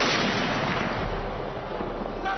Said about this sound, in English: A 17-gun salute for the martyr.